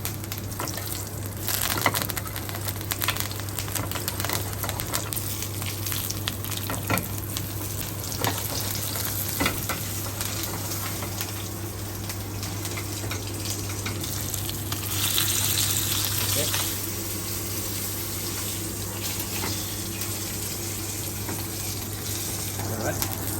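Garlic frying in a hot pan alongside fish cooking skin-side down, giving a steady close sizzle throughout with occasional scraping and stirring sounds and a low constant hum beneath.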